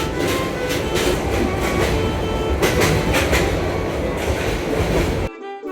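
Upaban Express passenger train in Bangladesh heard running, a steady loud rumble of wheels and carriages with rhythmic clatter throughout, ending abruptly near the close.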